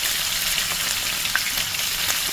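Steak searing in hot oil makes a dense, continuous sizzle with fine crackling pops, close and fairly loud, and no voices are heard.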